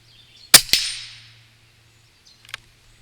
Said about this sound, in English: We're going to shoot some steel really quick.